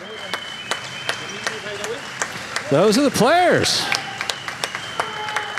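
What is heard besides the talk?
applause from players and fans at jai alai game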